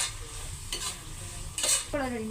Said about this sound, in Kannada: ಈರುಳ್ಳಿ ಬೇಗ ಫ್ರೈ ಆಗುತ್ತೆ ಅದನ್ನು ಕೂಡ ಚೆನ್ನಾಗಿ ಫ್ರೈ ಮಾಡ್ಕೋಬೇಕು